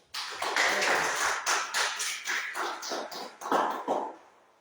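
A congregation in a church service breaks into applause, a fairly close burst of irregular hand claps that builds quickly, holds with uneven pulses, then tapers off near the end.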